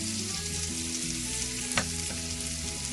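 Peri peri chicken pieces sizzle steadily in a pan, a moderately loud frying hiss with one brief sharp spike, over soft background music.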